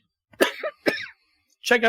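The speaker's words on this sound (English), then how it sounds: "I'm sorry I'm coughing so much." A few short, close coughs in quick succession, one pair and then a final double cough, fairly soft.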